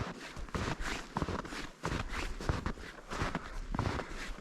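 Footsteps tramp steadily along a forest taiga trail during a long solo hike, a close, continuous rhythm of crunching strides at a brisk pace, with no talking.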